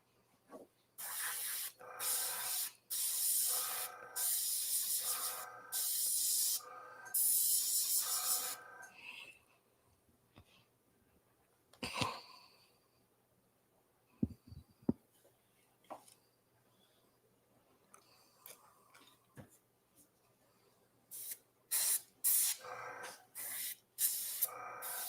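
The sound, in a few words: spray gun spraying reducer through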